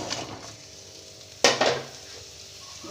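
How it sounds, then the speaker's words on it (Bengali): Chopped vegetables for a vegetarian bitter curry tipped into hot mustard oil in a wok: one sudden loud sizzling burst that fades over a second, above a low background hiss, with no voices. "কড়াইতে সর্ষের তেল দিয়ে দিয়েছি এবার সবজিগুলো আমি সব দিয়ে দিচ্ছি"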